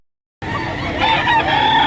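A white-legged rooster crows loudly and close by at a chicken market in Lipa, Batangas, a single sustained call that begins after a moment of silence.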